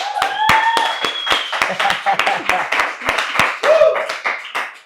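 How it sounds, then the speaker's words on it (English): Hands clap in a quick, uneven patter close by while voices talk and whoop over it, loud and lively. "big round of applause for Daniel Camaro."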